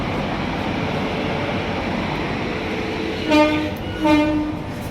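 A passenger train at a station, standing by the coach coupled right behind the locomotive: a steady loud engine drone and rumble, with two short horn blasts near the end.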